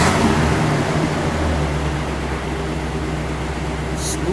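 A 1961 Imperial LeBaron with dual exhaust runs with a steady, low, smooth rumble close by, a quiet, even engine note that holds throughout with no sharp rise.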